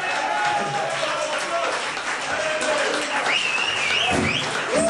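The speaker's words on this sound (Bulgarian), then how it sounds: "Аплодисменты за Стаско!" An audience at a party applauds steadily throughout, dense clapping filling the room, with a few voices and whistles faintly mixed in.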